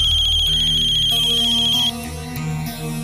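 An electronic telephone ringtone chirps in a rapid, repeating high pattern, then shifts into a lower melodic ring that continues to the end, loud and close with no one speaking.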